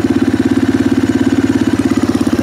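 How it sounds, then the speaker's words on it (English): A 1988 Yamaha Moto 4 ATV engine being cranked with the choke on, giving a loud, fast, evenly pulsing starter churn that repeats in a steady rhythm close by without catching. "let's try cranking it with the choke"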